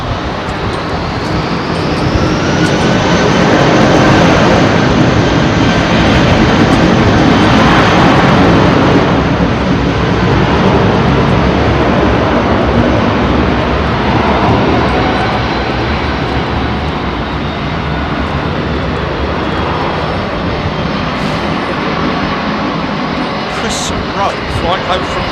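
A heavy jet departing London Heathrow on runway 27R, heard as a loud, sustained engine roar with a rising whine at the start that swells and then slowly eases off.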